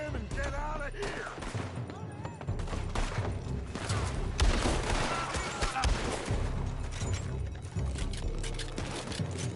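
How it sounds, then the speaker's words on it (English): Steady exchanges of gunfire during a Red Dead Redemption 2 shootout, with repeated cracks and overlapping volleys, some close and loud, others further off. Voices talk over the firing. "They're shooting from that building."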